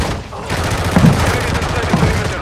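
Rapid bursts of gunfire from Call of Duty Mobile crackle through a busy match on the Shipment map, with heavy continuous noise and a player voice speaking over the shots.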